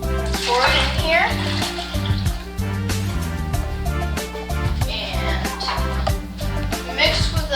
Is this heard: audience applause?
no